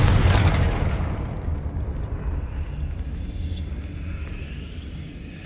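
A Confringo spell explodes in the Hogwarts Legacy video game with a sharp blast that decays into a long, low rumbling roar, fading gradually over several seconds.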